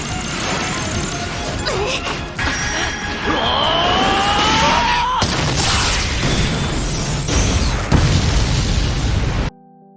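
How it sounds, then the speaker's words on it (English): A loud anime battle explosion shatters an arena's energy shield, a dense roaring crash with sweeping debris and whooshing layers that swell and surge for several seconds before cutting off abruptly, with no voices. "suddenly, there was a shot that destroyed the arena's shield"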